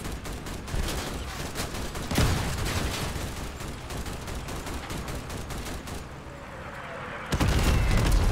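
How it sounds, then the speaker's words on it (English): Enemy mortar fire in the Crossout vehicle combat game, a dense continuous roar of firing and blasts, with a heavy boom near the start and another loud impact near the end. "that was the uh, enemy's mortar"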